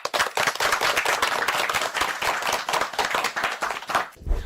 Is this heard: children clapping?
yes